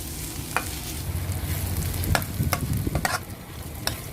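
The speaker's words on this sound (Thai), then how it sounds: "หอมเจียวไม่ลุงก็จะเอาประมาณนี้นะคะทุกคน ไม่ได้เจียวให้กรอบเหลืองแบบ นั้นนะคะเอาแค่พอเขาหอม" Shallots frying lightly in oil for a Thai chili paste, a close steady sizzle with sharp scraping stir strokes every half second or so.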